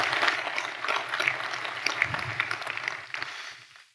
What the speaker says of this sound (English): A round of applause for our guests, please.